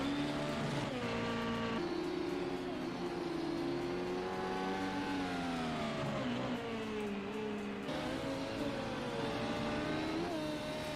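Race cars in a sim racing game at the Le Mans Grand Prix: high revving engines drone continuously, pitch rising and falling through gear changes and passes, loud and unbroken with no voices.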